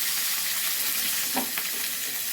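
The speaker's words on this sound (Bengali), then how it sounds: "মুড়োটা আর একটুখানি ভেজে নেব" A fish head sizzling in hot oil, a steady, close hiss of frying with a few faint clinks and spatters partway through, no voices.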